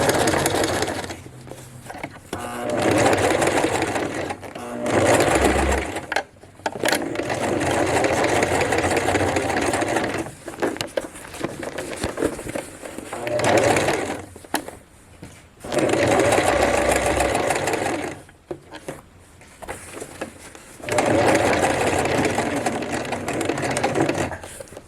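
Sewing machine running zigzag stitches along a pants waistband, several bursts of steady mechanical whirring separated by brief pauses as the stitching stops, backs up and goes forward again, loud and close.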